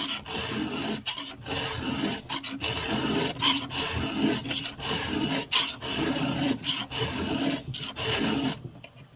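A file rasps across a chainsaw chain tooth to knock off the burr, steady repeated strokes close up, with no talking.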